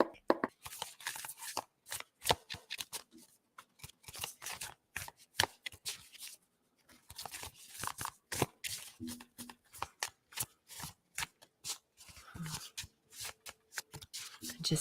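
A deck of cards is shuffled during a live card-reading session, in repeated bursts of close, crisp flutters over about fifteen seconds, with soft voice sounds between them.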